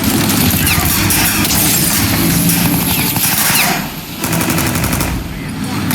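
Rapid automatic gunfire rattles loud and close in a Mafia: Definitive Edition shootout, near-continuous bursts with brief pauses and engine noise underneath.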